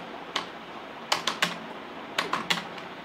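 Computer keyboard keys tapped in short irregular bursts, a single keystroke followed by quick clusters of three, close and crisp against a quiet room.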